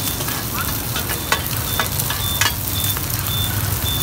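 Bột chiên frying in hot oil in a tilted pot at a Saigon street-food cart near Cây Gõ market, District 6: a steady close sizzle with occasional sharper spatters, alongside a distant reversing beep and street traffic.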